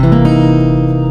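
A dominant 7 sharp 9 chord, strummed once on guitar and left ringing, loud and close, fading slowly with no voice over it.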